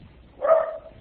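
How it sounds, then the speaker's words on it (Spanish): A dog gives a single short bark in the background of a Spanish-language online meeting session, a mid-pitched burst lasting under half a second. "Perdón por el perro, Jorge Leonardo."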